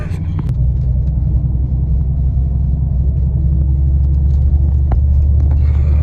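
A bus engine running as the coach pulls away on a trip toward Bordeaux, a loud, steady low rumble heard from inside that holds evenly throughout with faint light clatter on top.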